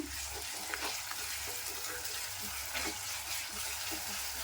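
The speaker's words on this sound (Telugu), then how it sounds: "ఇప్పుడు ఆనియన్స్ ఫ్రై అయ్యాయి కదా నేను కొంచెం అల్లం వెల్లుల్లి పేస్ట్ వేస్తాను" Ginger garlic paste, frozen rather than fresh, sizzles against fried onions in a pan while Rayalaseema-style country chicken curry is cooked, giving a steady, close frying hiss with faint stirring clinks and no talk.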